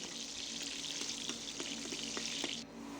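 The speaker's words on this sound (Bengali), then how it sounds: "কড়াইতে তেল গরম করে পেঁয়াজ কুচি আর তেজপাতাগুলি দিয়ে দিই এবার হালকা সেগুলি ভেজে নেব" Chopped onion and bay leaves frying lightly in hot oil in a kadai, a steady close sizzle with a few soft stirring clicks, cutting off abruptly near the end.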